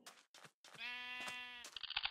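A sheep in the video game Minecraft gives a single close, wavering bleat, with brief clicks and game noises around it and no talking.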